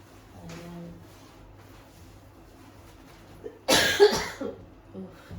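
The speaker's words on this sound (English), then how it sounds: "Coughing again. Excuse my coughing." A burst of harsh coughing from someone recovering from Covid, a few rough hacks close together, loud and near after a stretch of quiet background murmur.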